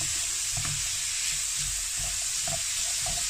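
Ground meat sizzles steadily in a hot pan as it is stirred, a continuous frying hiss broken by soft scraping and clacking from a utensil every half second or so.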